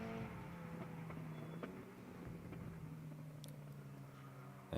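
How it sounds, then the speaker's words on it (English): A BMW E92 M3 race car with a V8 engine, competing in the BTC 4 class at an endurance race, drones steadily at mid distance, a sustained engine note that holds fairly level before swelling louder near the end. "I think it's a V8 engine there for Mištautas in the BMW E92 M3."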